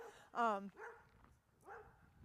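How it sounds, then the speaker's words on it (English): Dogs bark a few times in the distance, a sharp yelping bark followed by two softer ones, faint and spaced out, with no talking over them. "There's some barking dogs."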